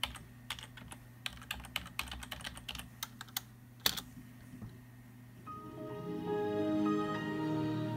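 Keys clatter in an irregular burst of typing as a password goes into a Dell OptiPlex GX280 desktop running Windows XP, followed by a rising hum and a steady tone as the computer moves on from the login screen.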